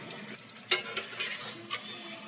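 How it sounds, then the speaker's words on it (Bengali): Chicken masala being stirred in a frying pan, a soft sizzle underneath a few scraping strokes of a spoon, quiet and close. "ভালো করে নাড়াচাড়া করে একটু কষিয়ে নেব"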